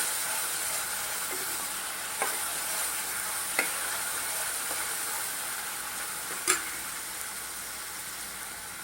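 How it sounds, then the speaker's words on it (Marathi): Finely chopped tomato sautéing in a pan with onion that has already been fried with salt, a steady hiss of frying throughout, with a few sharp clicks of stirring scattered through. "त्याच्यात एक टोमॅटो टाकलाय बारीक चिरलेला तो पण आता आपण परतून घेऊया"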